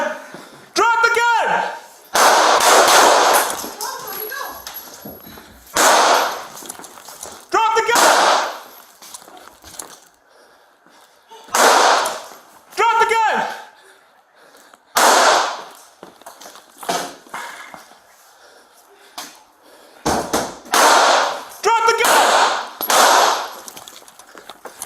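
Gunfire from suspects barricaded inside a house, shooting at police, rings out as repeated sharp loud bursts spread across the scene, mixed with shouting voices.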